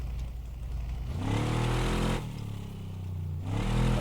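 A Ford Taurus engine in the Car Mechanic Simulator 2026 video game, revving up twice from a low idle, each rev rising in pitch and then dropping back, heard clearly with no voices.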